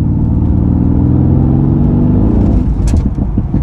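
Deep rumbling engine of a Mercedes-AMG GT S, Stage 1 tuned, pulling in fifth gear from about 2000 rpm, a loud close low drone that holds steady, then breaks up into uneven pulses near the end.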